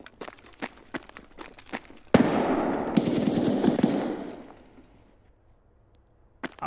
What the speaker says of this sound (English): Get down, grenade!